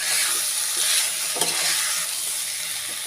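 Chicken curry with coconut cooks in its own juices in an open pot, a steady close sizzle and bubbling with a few soft stirring scrapes and no talking.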